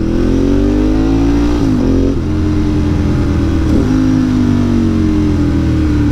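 A motorcycle accelerates through traffic to overtake, its engine rising in pitch through gear changes with brief dips between shifts, loud and close with wind rush and no speech.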